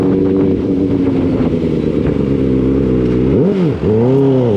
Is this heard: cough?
no